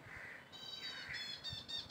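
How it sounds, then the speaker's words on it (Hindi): Crows and other birds caw and squawk in the trees of a rainy home garden, several harsh calls overlapping at moderate distance against faint background noise, with no talking. "ये पक्षी आते हैं इसके ऊपर बहुत सुंदर बर्ड्स आते हैं"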